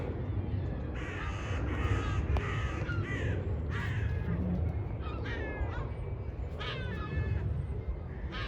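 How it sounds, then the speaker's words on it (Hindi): Crows caw from the top of a tree in Central Park, East Ham, London, a series of harsh repeated calls at moderate distance over a low outdoor rumble, with some faint talk underneath. "और इसके आगे वो दरख्त देखिए जिसके टॉप पे बहुत सारे कौवे बैठे हुए हैं"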